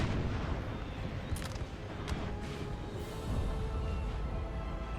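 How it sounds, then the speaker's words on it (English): Distant English artillery fires in a Napoleon Total War battle, with a dense rumbling din of cannon and scattered sharp reports that stay fairly faint and continuous throughout. "And the English artillery just took out 5 of the lancers."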